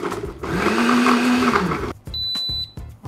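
A countertop blender whirs loudly for about a second and a half, blending a date drink, then cuts off; a few clicks and a thin electronic beep follow.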